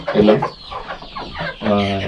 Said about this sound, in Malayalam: ഇത് അടയിരിക്കുന്ന വിഭാഗത്തിൽപ്പെട്ട കോഴികളാണ്.